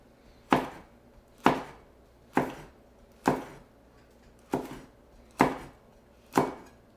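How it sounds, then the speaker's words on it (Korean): A knife slices a chili pepper diagonally on a cutting board for a stew, giving seven crisp, evenly spaced chops about one per second, close up and alone. "고추는 반개, 어슷썰기로 조금만 넣어줄게요."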